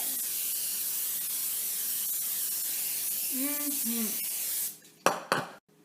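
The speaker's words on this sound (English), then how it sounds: "spray a cooking sheet generously with non-stick cooking spray" Non-stick cooking spray hisses steadily onto a baking sheet close by for several seconds, then stops, followed by a couple of clattering knocks of metal on a hard surface.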